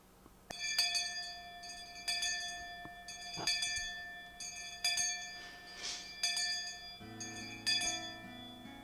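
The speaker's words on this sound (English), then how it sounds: "the last school bell always came too soon" A school bell in the visual novel Higurashi When They Cry, sounding as repeated bright chime-like tones at a roughly one-second rhythm, clear and fairly quiet, with no talking.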